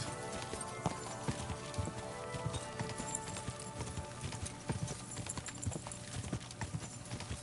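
Horse hooves clip-clop steadily in Kingdom Come Deliverance 2, a quick, even run of close footfalls that carries on throughout with no talk over it.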